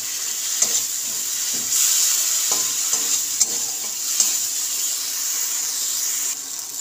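Spice paste with chilli powder, for a Bengali fish dish in mustard and poppy-seed paste, frying in a pan and being stirred. A steady close sizzle runs throughout, broken by repeated scraping strokes of the spoon.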